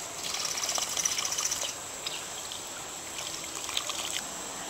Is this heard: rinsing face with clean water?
yes